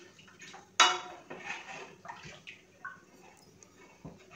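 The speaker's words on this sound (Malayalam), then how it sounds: "അത്ര നല്ലതായിട്ട് ഇളക്കി കൊടുക്കുക" Thick batter being stirred in a pan on the stove: a sharp metallic clink of a utensil on the pan, then soft intermittent scraping and wet stirring sounds, close and quiet, without voices.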